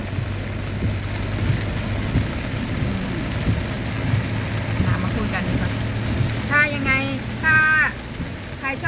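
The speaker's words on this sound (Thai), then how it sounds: "ให้ดูไปข้างหน้าว่าฝนแรง" Heavy rain with fog outside a moving vehicle, heard as a steady broadband wash over a low engine rumble, with a voice briefly audible near the end.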